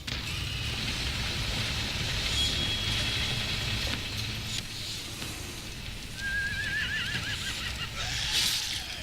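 A horse neighs in The Walking Dead video game, a short high whinny rising out of steady background game noise, heard clearly but not dominant.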